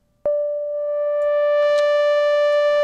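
A pure sine tone from the Massive synth passed through its Teletube effect, which pushes it toward a square wave: a single steady, loud buzzy tone starts abruptly and holds without a break, with brighter harmonics.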